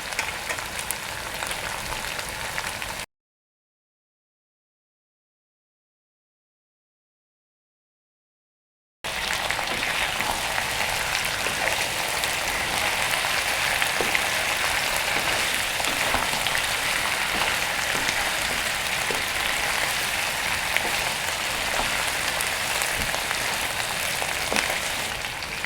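Chicken pieces dropped into hot oil with fragrant spice paste for ayam gongso sizzle and crackle continuously, a dense, even hiss that runs steadily after a brief gap, fairly loud and close with no talking over it.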